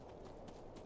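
Horse hooves clip-clop in the video game Skyrim, a quick run of soft, even hoof steps heard alone.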